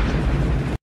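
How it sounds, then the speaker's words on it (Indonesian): A grenade explodes in a film scene, a single loud, dense blast that fills the short moment and then cuts off abruptly to silence. "Namun granat itu meledak ketika berada di tangannya."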